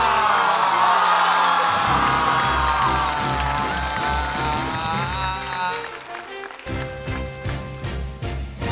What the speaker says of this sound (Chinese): 掌声有请辛博嘻